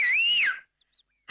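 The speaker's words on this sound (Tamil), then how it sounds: "விசில் அடிக்கணும்னா" A man whistles a single short rising-and-falling note, close and clear, cutting off after about half a second into near silence.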